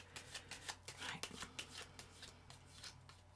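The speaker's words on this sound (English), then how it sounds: "One more shuffle" Tarot cards being shuffled in quick riffling bursts, a steady papery flutter with short pauses, close by and fairly quiet.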